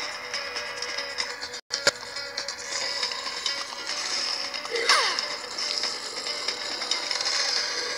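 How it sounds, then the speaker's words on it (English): A Minecraft mob grinder runs with a steady clicking, ratcheting mechanical churn under a faint background hum, broken by a brief cut-out and a couple of sharper clacks. "Sounds like the grinder is packed up."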